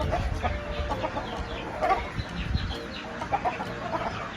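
Chickens cluck and murmur close by on a Thai farm, a scattered run of soft clucks over a rustling background.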